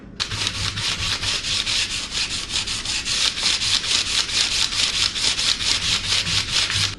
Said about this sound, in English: come back in here and put a little bit of the spackling in there to make that smooth, and we'll sand that down